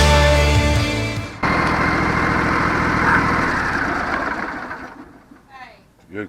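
A John Deere LA130 lawn tractor engine runs at a steady idle with a dense, even mechanical drone, starting loud and close and fading toward the end, overlaid by other sound at the start.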